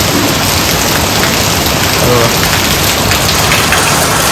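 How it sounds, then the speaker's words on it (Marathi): Heavy rain pours down in a dense, loud, unbroken roar that fills the whole stretch without pause. "बाहेर बघा पाऊस बघा कसला जोरदार येतोय"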